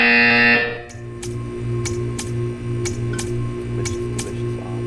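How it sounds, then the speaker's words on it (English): An electronic buzzer from the video game Portal 2 pulses in a steady repeating rhythm, each short buzz evenly spaced with faint ticking between, following a loud tone that cuts off at the start. "When you hear the buzzer, stare at the art."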